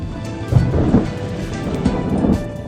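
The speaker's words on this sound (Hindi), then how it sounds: "शहर के मुख्तलिफ इलाकों में सहर के बाद बादलों की घन गरज सुनाई दी" Thunder rolls over steady rain in Karachi just after dawn, with low rumbles swelling and fading beneath a constant broadband hiss of rainfall, continuous and fairly close throughout.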